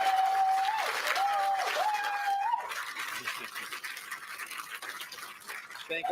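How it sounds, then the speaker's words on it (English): A crowd gives a round of applause for election candidates in a loud, sustained wash of clapping and cheering that fades somewhat partway through, with a tonal whistle-like sound over the opening. "we can get a round of applause to every single candidate that ran for us."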